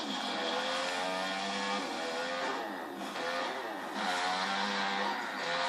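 Motorcycle engines in the Motocross Madness racing and trick video game drone steadily and loudly with shifting pitch, revving up and down continuously with no talking.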